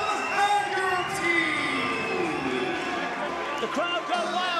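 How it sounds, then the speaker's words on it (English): Crowd cheering and roaring at a Muay Thai fight as a fighter enters the ring, a loud, sustained wall of noise with whoops and an announcer talking over it. "The crowd go wild and justifiably so"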